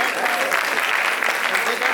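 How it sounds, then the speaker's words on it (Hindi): Sustained applause from an audience at an agricultural award ceremony, a thick, even roar of many hands clapping, loud and continuous for the whole stretch. "जोरदार तालियां"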